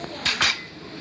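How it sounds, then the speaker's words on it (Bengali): A door in a video game is opened and closed in two quick clicking clunks about a fifth of a second apart, close and fairly loud over a faint hum. "গাইস আমি ওপেন ক্লোজ লক করে দিচ্ছি"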